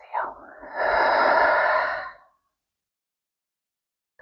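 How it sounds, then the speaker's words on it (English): A deep breath drawn in and let out during a calm Reiki meditation, a single long airy breath lasting about two seconds, close and clear, followed by silence. "take a nice deep breath in together. When you're ready, exhale"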